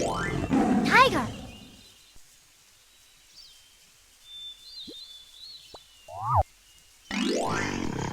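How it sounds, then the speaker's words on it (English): A tiger gives a short, loud, rasping roar at the start, followed by a near-silent gap with faint bird chirps and a brief tonal call, then another long harsh roar near the end. "Tiger."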